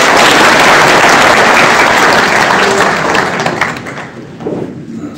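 A crowd of ex-servicemen and supporters at a veterans' pension rally gives loud, sustained applause that thins out and fades over the final seconds.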